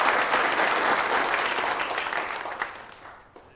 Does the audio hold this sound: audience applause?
yes